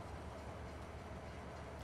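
Freight train loaded with soybeans in Farming Simulator 19 rolls along with a steady, low mechanical rumble and faint rhythmic clatter, heard alone over a brief stretch.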